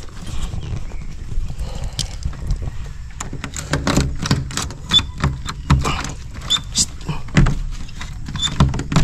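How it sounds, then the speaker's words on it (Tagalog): A door is unlocked and opened, giving a string of sharp clacks, rattles and knocks of the latch and panel, with voices talking over the clatter. "Buksan muna natin ang pinto"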